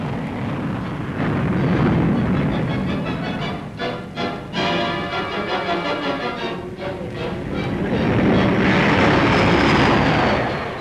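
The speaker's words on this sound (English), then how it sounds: "It has 4 Rolls-Royce Nene turbojet engines and a speed of over 400 miles an hour." An Avro Ashton research jet with four Rolls-Royce Nene turbojets passes at an airshow, a loud continuous roar that swells, dips and builds again with a whining tone as it flies by, with no voices.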